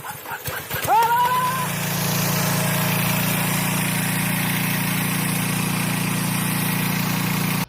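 A Forte-161LT motor tractor engine cranks with a short rising whine and catches, then settles into a steady, loud, even running drone that continues to the end.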